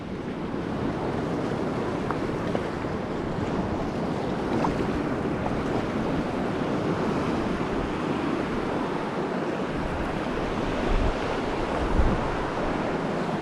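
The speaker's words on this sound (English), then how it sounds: "Let's wait until the waves kind of stop." Ocean waves surge and break continuously with steady wind buffeting the microphone, heard from kayaks out at sea on a camping and fishing trip; a dense, loud roar with no speech.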